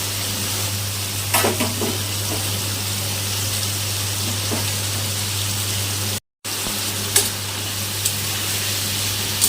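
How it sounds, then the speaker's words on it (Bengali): Pointed gourd, onion and potato fry in a pan with a constant close sizzle and occasional stirring scrapes, broken by one brief silent gap. "এখন সবগুলো ভালো মতো ভেজে নিতে হবে"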